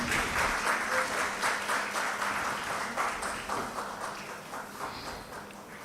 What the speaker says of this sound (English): have a big round of applause